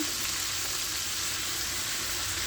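Canned ackee hits a hot pan while cooking callaloo rice with ackee and saltfish, giving a steady, close, even sizzle that holds unbroken throughout, with no talking.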